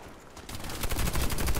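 Rapid automatic fire from an H&K G36C rifle in the online shooter Warface, after a brief quiet lead-in, with a steady stream of close, evenly spaced shots.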